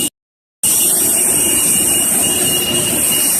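A loud, steady roar of an airplane jet engine at an airport, a constant broadband rush with a high whine, heard close after a brief moment of silence.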